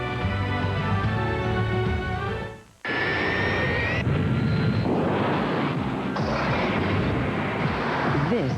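UPS delivery planes and trucks in a television advertisement: a loud roaring engine and rumble, a rising whine, then a dense mechanical roar with clanks, all steady and forceful, without speech.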